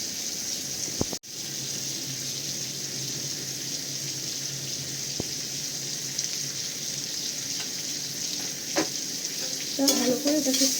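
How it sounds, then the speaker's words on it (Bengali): Ingredients fry lightly in a pan for white sauce pasta, a steady low sizzle and hiss that runs throughout, broken by a sharp knock early on and a few utensil scrapes and clinks near the end. "খুব বেশি ফ্রাই হয় না, জাস্ট হালকা করে আমি এটাকে ফ্রাই করে নেবো।"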